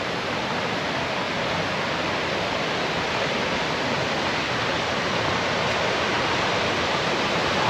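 Continuous rushing water from a running stream in the Atherton Tablelands, Australia, a steady broadband flow like a small cascade, close and unchanging throughout with no voices.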